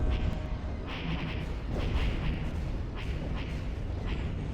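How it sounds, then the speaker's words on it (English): Rapid laser fire in a Star Wars strategy game battle on Kashyyyk, a dense continuous barrage of repeated shots and booms layered with bursts of effects, loud and steady throughout with no talking. "His light lasers have such a rapid fire rate."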